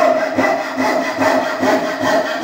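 A coping saw rasps through wood in steady, even back-and-forth strokes. The cutting is loud, close and continuous, with no voice over it.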